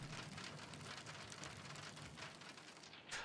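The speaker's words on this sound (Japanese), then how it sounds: "こういう雨音は好きだな" Steady rain patters densely and evenly in the game The Pedestrian, a continuous soft hiss of drops with no voices over it.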